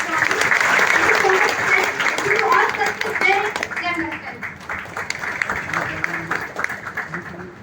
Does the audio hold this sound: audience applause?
yes